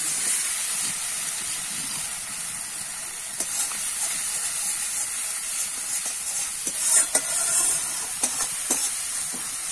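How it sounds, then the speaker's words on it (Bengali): Rui fish roe masala stir-fried in a pan, giving a steady, close sizzling hiss throughout with a few brief scraping stirs. "মশলাটা কষানো হচ্ছে ভালোভাবে"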